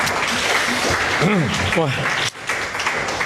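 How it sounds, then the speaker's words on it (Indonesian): An audience at a talk session applauds, a steady wash of clapping running throughout while a voice exclaims over it. "boleh tepuk tangan"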